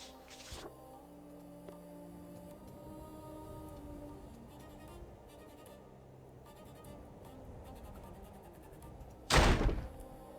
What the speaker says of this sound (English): Oh, the zombie just hit the door.